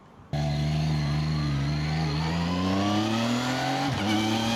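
A 2026 CFMOTO 675NK motorcycle pulls hard from a standing start, its engine note climbing steadily and loudly before a crisp quick-shifter upshift briefly cuts and drops the pitch near the end, with no voices.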